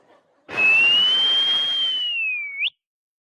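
A loud, sustained whistle blown once for about two seconds, a steady pure tone that ends with a quick upward chirp, alone and up close.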